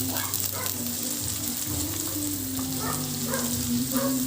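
Garlic and onion sautéing in a pan for a pork pata dish give off a steady, close sizzle and frying crackle, with a faint background hum throughout.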